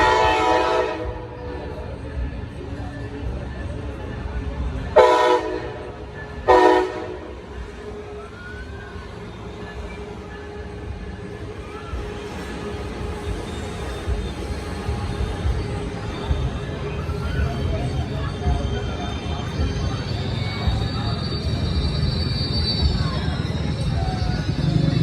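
A Coaster commuter train bound for Oceanside sounds its horn in two loud blasts near San Clemente, then rumbles and clatters past, its rolling noise building steadily and staying close.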